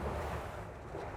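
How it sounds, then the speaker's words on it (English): Waves break over a boat's bow in a brief, dense wash of water and wind rush, close and loud with no voices. "Waves are coming over the bow."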